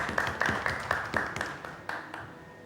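An audience claps steadily for a speaker at a Ramadan iftar speech event, with a run of close, sharp hand claps that thin out and fade within a few seconds.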